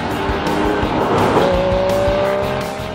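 A Porsche Cayman GT4 engine revs hard while driving, a loud rising wail with a gear change partway through, accompanied by a brief tire squeal.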